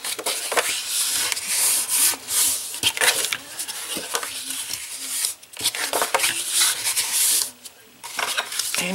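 Paper for a handmade Valentine book box is folded and creased by hand, giving a close, continuous rustling and rubbing with brief pauses between strokes.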